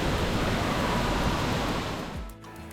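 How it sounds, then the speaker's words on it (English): A waterfall tucked partly behind a rock face in southern Iceland roars as a loud, continuous broadband rush of falling water, easing slightly near the end. "found, partially hidden behind a rock face, another beautiful waterfall."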